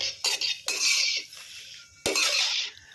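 Chinese sausage stir-fried in a wok over medium heat, with a few bursts of scraping and clattering from the spatula and pan between quiet pauses.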